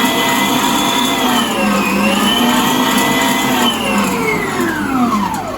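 A Kitfort 1400W stand mixer running at high speed: a loud, continuous motor whine up close, its pitch rising and falling slightly over several seconds.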